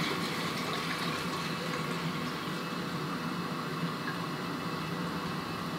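Water runs steadily from a hose into a film washing tank in a home darkroom, a constant close hiss and gurgle with no voices.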